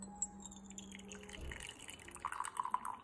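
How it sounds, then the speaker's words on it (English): Green tea poured from a teapot into a cup, a faint quiet trickle building to a short run of bright dripping splashes near the end, close and alone without talk. "we're going to pour it out into the cup"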